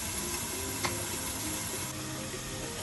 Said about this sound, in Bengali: একটু ফ্রাই হতে দিচ্ছি